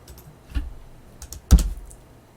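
A few scattered keystrokes on a computer keyboard as a command is typed, soft clicks with a sharper tap near the end, close and isolated with no talking.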